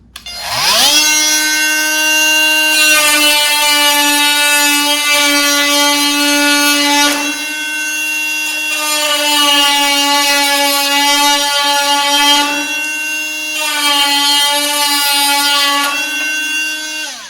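A Makita cordless oscillating multi-tool on a 4 amp hour battery at speed 6 cuts through a 1x2 piece of wood, giving a loud, steady high buzzing whine in three long bursts with brief dips between them and no talking.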